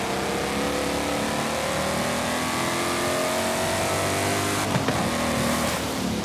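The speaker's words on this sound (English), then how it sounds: "So yep, it's kind of like a raspy V8" A raspy V8 car engine in Forza Horizon 5 revs and holds a steady high drone, loud and close, with a brief shift-like dip near the end and no talking.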